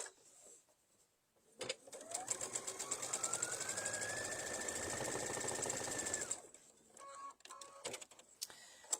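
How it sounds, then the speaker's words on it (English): A sewing machine stitches fabric pieces together for a reversible bucket hat, a quiet, rapid mechanical whirr that speeds up and runs steadily for several seconds before stopping, with a few soft handling clicks before and after. "We're going to sew the other 2 pieces together."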